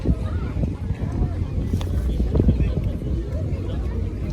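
Steady wind buffets the microphone with a low, rumbling roar throughout, continuous and close.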